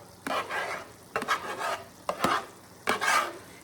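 Riced cauliflower sizzles in a hot pan while being stirred, with four distinct scraping stirs over a soft, steady frying hiss, close and fairly quiet.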